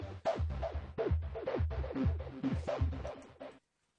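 A gritty, squelchy synth bass plays a rapid pulsing pattern, each note sweeping and wobbling with heavy modulation, loud and alone before cutting off.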